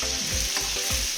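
Food fries in a pan with a constant close sizzle, while rhythmic scraping strokes of a spoon stirring and turning it repeat about three times in quick succession.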